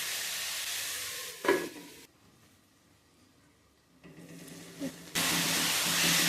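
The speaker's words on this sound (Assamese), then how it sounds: "মটৰখিনি দি মই অকণমান সময় ভাজি লওঁ" Tomatoes and peas fry in a pan and sizzle loudly. The sizzle drops off sharply for a couple of seconds, as if the pan is covered, then returns strongly near the end.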